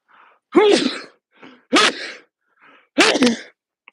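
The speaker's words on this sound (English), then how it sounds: "I have to sneeze" Three sharp sneezes, each preceded by a short breathy intake, spaced about a second apart, loud and close.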